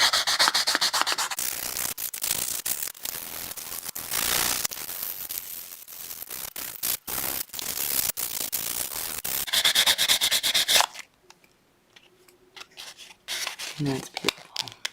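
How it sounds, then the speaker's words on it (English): An emery board rubs briskly back and forth over a wire-wrapped tiger eye pendant, giving a steady, close, dense scratchy sanding that runs for several seconds before stopping, followed by a few faint handling noises. "now I'm going to sand this bit"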